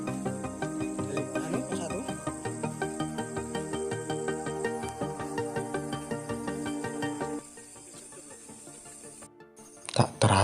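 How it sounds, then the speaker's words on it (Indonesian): Loud, shrill chorus of crickets singing deep in a mountain forest at night on Mount Penanggungan, a dense continuous trill that drops quieter toward the end before a brief louder burst. "Terdengar suara nyaring jangkrik bernyanyi di kedalaman hutan."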